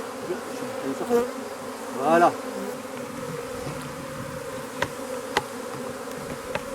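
A honeybee swarm hums steadily around a branch during a first swarming, its buzz broken by a few louder passes of bees flying close by, with a brief spoken word from a person.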